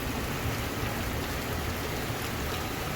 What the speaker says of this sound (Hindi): ये देखें कितनी तेज़ बारिश होने लग गई है